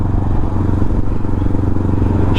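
Honda Rebel 500 motorcycle fitted with a Vance & Hines exhaust, riding along with a steady, loud, throaty engine rumble and regular low firing pulses, close up and continuous with no talking.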